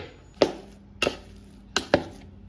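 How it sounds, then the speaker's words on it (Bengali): Boiled potatoes, cooked in their skins with a little salt, pressed with a hand masher: four separate soft thuds at a steady pace, close and clear, with no voices. "দেখুন এই ম্যাশারের সাহায্যে আলুটাকে আমি ম্যাশ করে নিচ্ছি"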